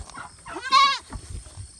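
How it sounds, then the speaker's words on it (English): A goat on a homestead gives one loud, close, wavering bleat lasting under half a second, followed by quiet rustling and shuffling from the animals. "We want to take a little bit of a peek at the goats."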